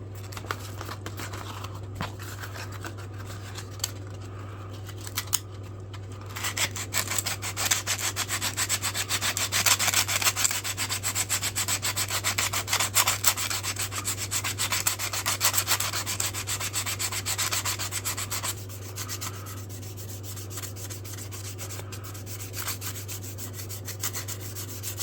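Steady, continuous hand sanding of wooden Swiss Army knife scales, a close, even scratchy rubbing that grows slightly harsher midway and carries on for the whole stretch with a low hum underneath and no talking.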